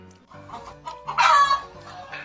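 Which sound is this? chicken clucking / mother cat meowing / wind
chicken clucking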